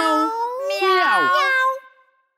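A singing voice imitates a cat's meow in a French children's song: drawn-out, melodic meows that slide up and down, close and clear, for about two seconds before stopping.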